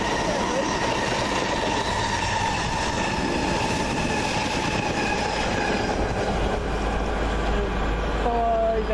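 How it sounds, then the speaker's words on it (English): A train from Woking runs along the South West Main Line, a loud, continuous roar of wheels on rail with rhythmic clatter and rising metallic squeal near the end, close to the listener. "Comes the train from Woking."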